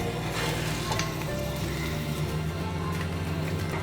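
Potato cheese roti tacos toast on a hot pan with a steady, close sizzle and faint crackle that runs unbroken throughout, with no talk.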